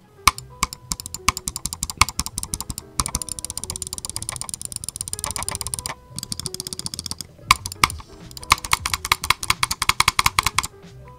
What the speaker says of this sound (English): this is the sound of my old mouse.